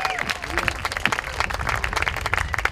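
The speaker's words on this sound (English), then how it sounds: "Let's give them a round of applause this evening." Lively round of applause at an international night evening event, with sharp individual claps standing out over the crowd and some voices mixed in beneath.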